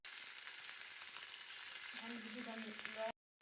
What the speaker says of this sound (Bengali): মাছ ভুনা করে নিচ্ছি, মাছগুলা ভেজে নিচ্ছি